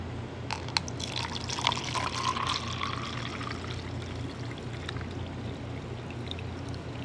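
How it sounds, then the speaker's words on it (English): White vinegar pours into a laboratory beaker during an osmosis experiment, a quiet trickling and splashing stream that tapers off into faint dripping. "Now we're going to measure out 200 milliliters of white vinegar into the beaker."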